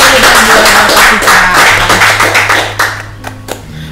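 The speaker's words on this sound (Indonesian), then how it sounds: "Kita beri tepuk tangan dulu dong buat Bapak kita." Audience applause at a live talk-show dialogue event, loud sustained clapping that thins out toward the end into a few scattered individual claps.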